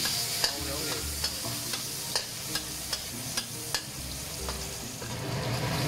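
Dried shrimp stir-fry in a wok for homemade taro cake, giving a low sizzle under a spatula that scrapes and taps the metal about every half second, close and moderately loud with no voices.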